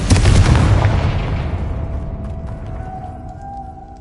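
A Confringo fire blast spell in the video game Hogwarts Legacy bursts in one loud, close explosion that booms and then rumbles away over several seconds, leaving a faint ringing tone.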